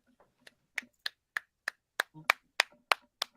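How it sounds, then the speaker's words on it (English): A small, sparse round of applause on a podcast, about a dozen separate claps in a fairly even rhythm, close and quiet against silence. "Let's get a round of applause."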